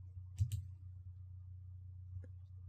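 A computer mouse clicks a few times while opening the Windows 7 Snipping Tool: a quick close pair of clicks, then a single fainter click after a pause, over a low steady hum.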